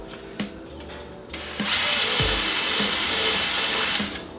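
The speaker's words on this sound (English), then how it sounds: "This drill bit's burning hot. 2 more holes, let's do it." A power drill bores holes in a 2022 Subaru BRZ trunk lid to mount a GR86 duckbill spoiler, with a few short clicks and bumps before a sustained high-pitched whine of the bit cutting through, then trailing off.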